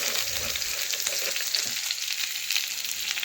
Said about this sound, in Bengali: ওই ছোট ছোট আলু কেটে রেখেছি, ওগুলো একটু আমি ভেজে নিচ্ছি।